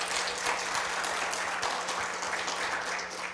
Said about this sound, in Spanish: Y dele un aplauso al Señor.